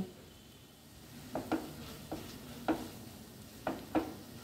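Chicken keema with finely chopped coriander leaves being stirred in a pan, a series of spaced scraping strokes of the spoon over a quiet low sizzle, with no talk.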